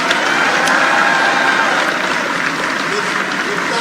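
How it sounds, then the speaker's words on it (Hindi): An outdoor crowd applauds a chief minister's speech at a state auto show, a dense, loud, continuous wash of clapping that holds steady and slowly thins, with faint voices mixed underneath. "तालियों तो दमदार हो"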